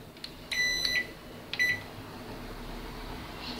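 Microwave oven heating a hamburger for one minute: a steady low hum throughout, broken near the start by two bright electronic beeps.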